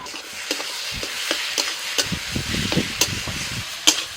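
Grated paneer is stirred into sizzling fried spice masala in a pan, with steady frying crackle and sharp, irregular spoon scrapes and clinks close by.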